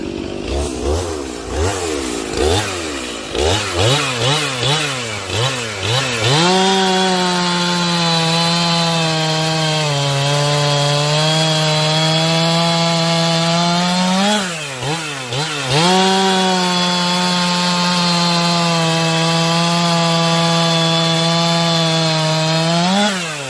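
A chainsaw fitted with a brand-new Stihl Hexa full chisel chain cuts wood. A few sharp revving bursts give way to a loud, steady, close drone under load, which dips briefly once before carrying on strongly.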